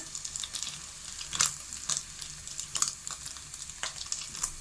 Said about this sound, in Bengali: একটু লাল লাল করে ভেজে নিলে আমার এটা হয়ে গেছে